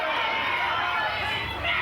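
Crowd of supporters, including female fans, shouting at a live MMA fight event, a dense continuous roar of voices throughout, loud and close with a brief surge near the end.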